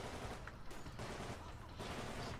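Sustained gunfire from the shooter game Titanfall, dense and continuous across the whole stretch, loud and busy with overlapping shots, with talk faintly mixed in.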